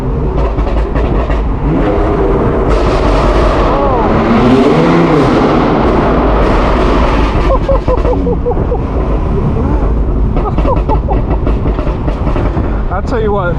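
Loud, continuous roar of a tuned 1000HP BMW M4 F83 convertible's exhaust, heard from inside with the top down, with rumbling engine and wind noise throughout and a voice talking over it.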